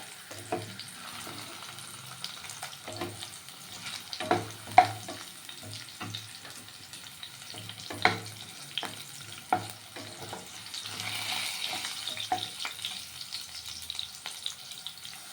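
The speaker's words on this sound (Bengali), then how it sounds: "আলুগুলো ভাজা হয়ে গেছে" Potatoes with a bay leaf fry in a pan, giving a soft continuous sizzle. Repeated scraping stirs and occasional louder clatters from the spatula come at an uneven rhythm, with no voices.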